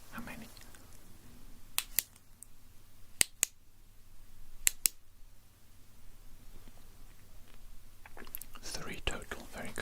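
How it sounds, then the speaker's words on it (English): Sharp, crisp clicks made close to the microphone for an ASMR hearing test, arriving in small separated bursts over a quiet hiss, with faint soft whispering and a rustle of handling toward the end. "I'm going to make clicking sounds."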